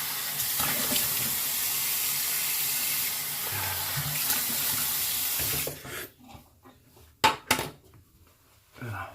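A bathroom tap runs hard and steady for about six seconds while someone rinses after a shave, then shuts off, leaving a few drips, splashes and light clatter.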